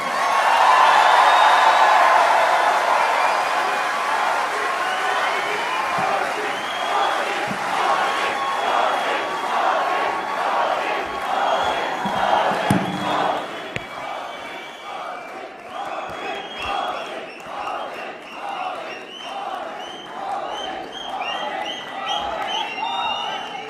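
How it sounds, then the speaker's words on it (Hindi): An audience in Berlin welcomes Prime Minister Narendra Modi with loud, sustained clapping and cheering from a large crowd, with scattered shouts rising above it. "हमारे प्रिय प्रधानमंत्री श्री नरेंद्र मोदी जी का तालियों की गड़गड़ाहट से स्वागत करें"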